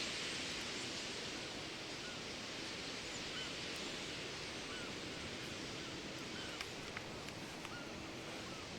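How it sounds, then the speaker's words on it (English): Continuous hissing whoosh of a huge murmurating flock over Blackpool's North Pier at sunset, a steady water-like rush with faint scattered calls and no talking. "that is just the sound of these birds."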